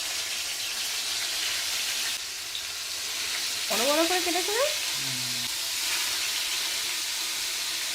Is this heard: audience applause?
no